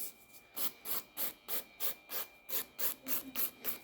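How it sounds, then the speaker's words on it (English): A 180 grit nail file shapes an acrylic gel nail in quick, even back-and-forth rasping strokes, about a dozen soft scratches close by. "So 180 grit nail file."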